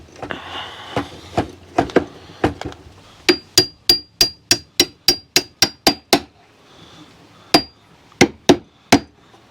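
A hammer drives a Razor scooter handle onto a homemade disc golf cart, with a long run of sharp, ringing metallic blows at a steady beat, a short pause, then a few more strikes close by.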